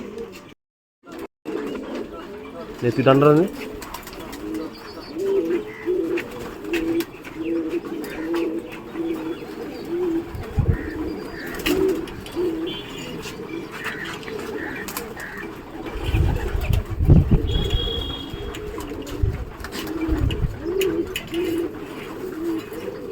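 Pigeons coo steadily and fairly close in a loft, with a low continuous murmur throughout, a brief voice near the start and a few louder thumps and flutters later on.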